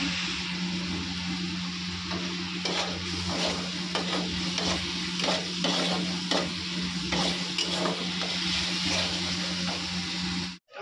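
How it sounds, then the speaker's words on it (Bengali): Spice paste is sautéed in a pan over a continuous sizzle of hot oil. Repeated scraping strokes of a spoon or spatula stir it at an uneven pace, heard close and moderately loud. "এখন মশলাটা কষানো হচ্ছে।"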